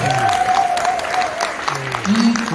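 Audience applause in a multipurpose hall at a community education event after a Jindo drum dance performance, steady full clapping throughout with a voice speaking over it.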